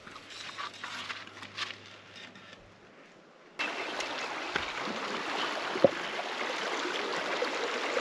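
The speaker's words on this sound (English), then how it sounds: "We're going to fish this creek right there." Flowing creek water during a South Dakota road trip fishing stop, a steady broadband rush that swells louder midway through and then holds, with no talk.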